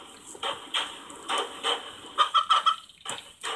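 Chicken clucking close by in a series of short, irregular clucks that quicken into a rapid burst of four or five notes before slowing again.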